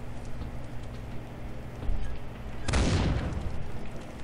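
Grenade explosion in a bad video game, a sudden loud boom after a softer thud, followed by a rumbling, hissing decay against a steady background hum.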